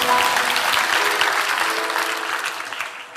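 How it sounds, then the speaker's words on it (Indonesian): Loud applause from a church congregation during a sermon, a dense wash of clapping that stays strong and then slowly tapers off over a few seconds. "Kasih tepuk tangan untuk Tuhan Yesus"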